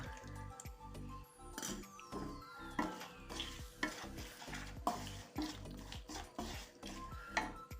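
A spoon scrapes through thick masala mixed with tamarind pulp for a bitter gourd pickle. Close, rhythmic stirring strokes and clacks repeat about twice a second over a faint, quiet sizzle.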